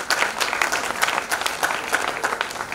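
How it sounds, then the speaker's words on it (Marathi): An audience claps together for a speaker at a public talk, a lively, fairly close burst of applause with a quick, roughly rhythmic beat throughout. "आदरणीय एकनाथ पाटील सर यांचं पहिला मनापासून टाळ्या वाजवा"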